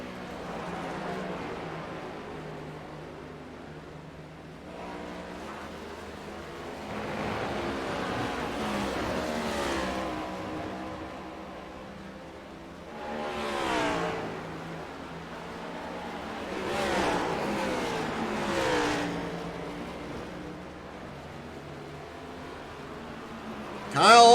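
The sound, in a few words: race cars driving at The Glen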